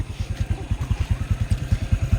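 Motorcycle engine idling close by, a fast steady low-pitched putter of even pulses throbbing without change from start to end.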